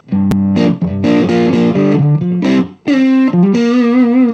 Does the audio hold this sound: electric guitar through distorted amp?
yes